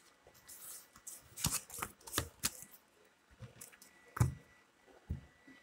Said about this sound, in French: on va tirer d'autres cartes